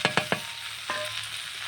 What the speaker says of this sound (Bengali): এখন আমি দিয়ে দেবো পেঁয়াজ জিরা ভাজবো।